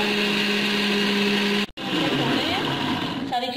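A blender whirs loudly while grinding red chilli sauce ingredients, a steady high motor whine that cuts out briefly, then restarts with a rougher, churning tone.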